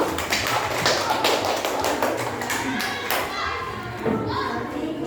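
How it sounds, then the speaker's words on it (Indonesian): A classroom group claps for group one, a loose burst of hand taps and thumps up close, mixed with children's voices and chatter throughout. "Tepuk tangan untuk kelompok satu"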